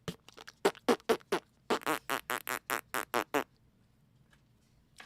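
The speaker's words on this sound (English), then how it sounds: "Why does my gavel fart?" A toy gavel lets out a rapid run of about a dozen loud, buzzy fart noises in quick succession, close and clear, before falling quiet.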